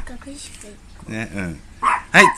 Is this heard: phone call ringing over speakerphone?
no